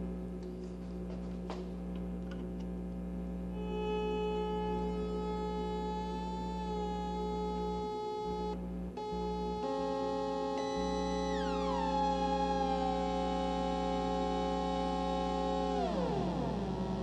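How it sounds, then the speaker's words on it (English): A synthesizer played through a homemade active mixer gives sustained electronic tones with gliding pitch sweeps and falling chirps over a steady low hum, heard close with no talking. "now let's get some sound out of my synthesizer"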